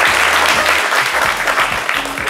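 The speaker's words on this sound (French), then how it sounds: "Est-ce qu'on peut l'applaudir?" Studio audience applause on a French-language TV talk show, a dense steady burst of clapping filling the room at close range for a couple of seconds with no voices over it.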